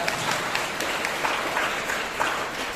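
A large audience at a festival talk applauds steadily, a dense, even wash of many hands clapping together.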